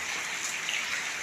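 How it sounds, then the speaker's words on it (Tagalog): Dense, steady rain hisses without a break, a continuous wash of drops drumming on surfaces nearby. "Ito ang mahirap na ulan"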